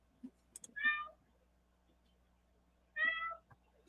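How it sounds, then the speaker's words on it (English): A house cat meows twice, close and clear, with a long gap between the calls and faint clicks and small household sounds in the quiet room. "Oh, you got a cat too, huh?"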